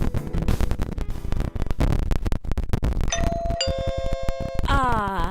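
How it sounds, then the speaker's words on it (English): A doorbell chimes several times in a row, bright ding-dong tones ringing out over a noisy background during a high school baseball game radio broadcast. "Ah, the sound of my doorbell."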